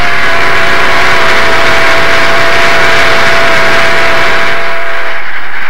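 Southern Pacific cab forward steam locomotive 4274, a Mallet, working hard upgrade over Donner Pass with a train: a loud, steady roar of exhaust and machinery that fades slightly at the end, with no talk.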